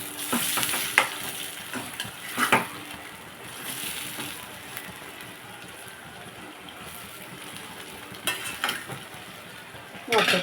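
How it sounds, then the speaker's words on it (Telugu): Tomato and egg curry cooking in a pan, a quiet steady sizzle with a few sharp clinks and scrapes of a spoon stirring against the metal. "టమాటాలు కూడా వేసేసుకున్నాం. ఒకసారి మనం బాగా కలిపేసుకొని"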